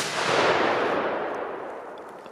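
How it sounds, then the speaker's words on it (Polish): An old firecracker, rated at about one and a half grams, goes off outdoors in a single sharp blast whose rumbling boom decays gradually over a couple of seconds. "Ładnie szczeliło. Ładna, stara petarda."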